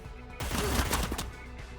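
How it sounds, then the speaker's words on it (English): A burst of assault rifle fire in a cyberpunk tactical RPG video game: a dense, loud stretch of rapid shots lasting about a second, close and without talk. "Let's switch to the assault rifle."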